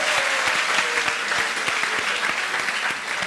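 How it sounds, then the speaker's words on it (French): A studio audience applauds at a French entertainment show, loud dense clapping that sustains evenly and close throughout, with faint crowd murmur beneath. "Et on peut les applaudir."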